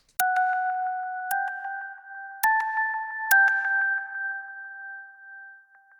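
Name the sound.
FM synth bell with echo delay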